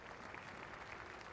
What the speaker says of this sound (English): More applause for the single.